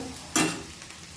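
Onion sautéing in a pan until golden brown, heard as one quick, close scrape of a stir against the pan over a faint background hiss.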